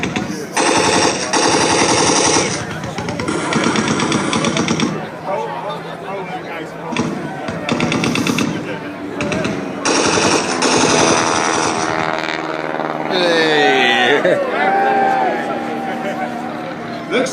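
Loud bursts of rapid machine gun fire from replica WWI fighter aircraft during an airshow dogfight display at Sonisphere UK, repeated volleys over engine roar and crowd-area noise, with a commentator talking over the action.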